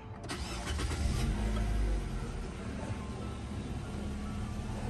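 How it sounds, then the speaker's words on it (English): A 2014 Nissan Sentra SR engine cranks and catches after an oil change, roaring up loudly for a moment before settling into a steady idle rumble. "start the car up"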